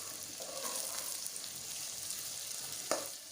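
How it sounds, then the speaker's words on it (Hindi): Tomatoes frying with softened onions in a pan, a steady soft sizzle running throughout with a brief sharper clatter near the end, no voices. "अब हम इसमें टमाटर ऐड कर देंगे।"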